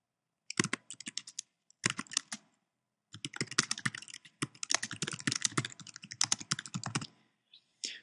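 Fingers typing on a computer keyboard, close and fairly quiet, in quick bursts of clicking keystrokes separated by short pauses, with no voice over it.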